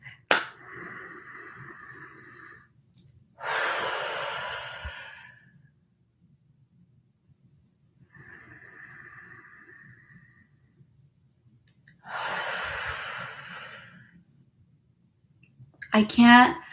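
Slow, deep breaths drawn in and let out in long audible exhales, with a soft voice heard faintly between them in a quiet room.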